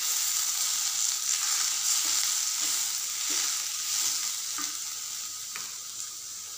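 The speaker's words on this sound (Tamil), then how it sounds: "இப்போ இந்த தேங்காய் துருவல் சேர்த்து ஒரு திருப்பி திருப்பி விட்டுக்கலாம்" Grated coconut being stirred with sautéed onions in a hot pan for ginger chutney, a steady sizzle with a few soft scraping turns of a spoon, close and with no voices.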